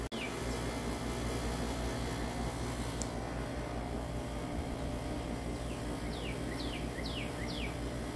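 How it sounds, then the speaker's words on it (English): Birds singing outdoors on an afternoon, a few faint chirps and short trills far off over a steady quiet background hiss. "listening to the birds"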